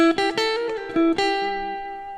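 A short guitar phrase of a few plucked notes with a slide or hammer-on, ringing out and decaying slowly at the end, played alone and clean.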